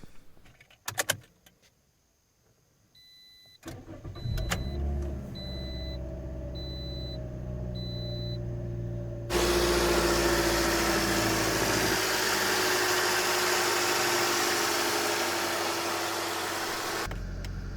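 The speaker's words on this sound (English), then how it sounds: "And now you can start the engine." Keys jingle, then a 2010 Toyota Corolla engine cranks and catches after throttle body cleaning, settling into a steady idle; the running engine grows louder and holds a continuous hum.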